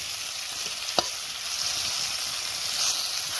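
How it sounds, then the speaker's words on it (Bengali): A vegetable fry sizzles steadily in oil in a wok, an even close hiss with one sharp utensil tap early on and no talking. "তো দেখো ভাজাটা বসিয়ে দিয়েছি আমি।"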